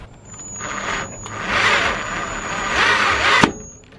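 A power drill drives a self-tapping screw into a Suncast BMS8100 storage shed, its motor whining and straining in two long rising runs, then stopping with a sharp click.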